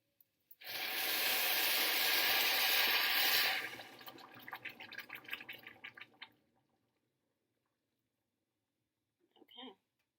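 A water mixture is poured into a pot of toasted rice in a kitchen, a loud rushing splash for a few seconds, then fading sizzle and bubbling before near silence and a brief clatter.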